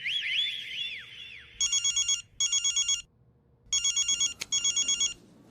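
A telephone rings in two paired electronic bursts, each pair followed by a short pause, clear and fairly close after a brief warbling tone at the start, with no talk over it.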